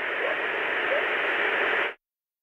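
Steady broadband white noise hisses evenly at a constant level for about two seconds, then cuts off abruptly into silence.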